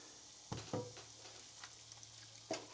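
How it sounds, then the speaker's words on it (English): Ground beef nearly cooked in a pan as tomato sauce goes in, a quiet low sizzle with a few sharp clatters and scrapes of stirring near the start and again near the end. "So the beef is almost cooked. We're taking the sauce and then we're adding that to the beef."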